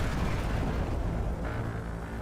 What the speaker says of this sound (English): FPV drones strike. The ammunition detonates violently.